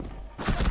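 A video game explosion involving a planted C4 bomb: a sudden broad, rumbling burst after a quieter stretch, loud and close, lasting to the end.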